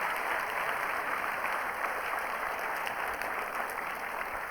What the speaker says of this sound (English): let's give all 4 of these people a nice round of applause